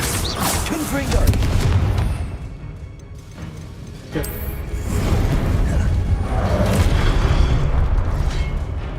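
The Confringo fire spell explodes in Hogwarts Legacy with loud, deep booming blasts and whooshing bursts. The rumbling stays heavy and continuous, with a sharp burst partway through.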